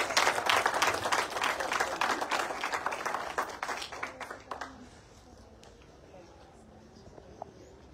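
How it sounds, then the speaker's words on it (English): Applause from an audience at a school financial literacy event in Eswatini, a dense patter of clapping that gradually thins and fades out over several seconds, leaving quiet room noise. "A round of applause for Mr."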